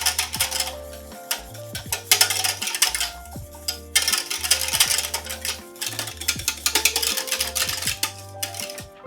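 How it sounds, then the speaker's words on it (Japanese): Chestnut Chiboust cream stirred vigorously in a pot over medium heat, with a spoon or whisk scraping and clinking against the metal in a busy, uneven rhythm, close and fairly loud, with no talking. "で、そしたら中火で焦げんようにワシワシ混ぜながら炊いていきます。"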